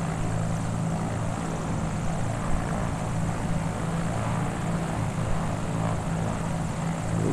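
A propeller aircraft taxies on the ground during a demonstration, its engine droning steadily and loudly with a constant low hum throughout, no voices over it.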